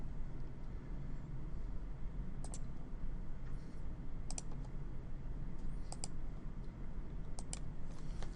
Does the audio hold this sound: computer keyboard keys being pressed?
yes